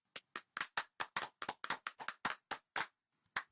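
Wedding guests applaud with a short burst of sharp, fairly close claps in an uneven rhythm, a dozen or so, that trails off into silence with one final late clap.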